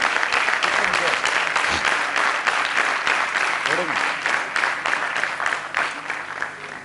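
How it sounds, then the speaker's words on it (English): Audience applause at an extempore speaking event, a dense, steady wash of many hands clapping continuously throughout, close and fairly loud. "Audience, can we applaud BIMM going for Extempore?"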